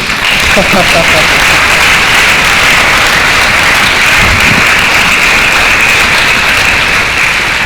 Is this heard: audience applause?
yes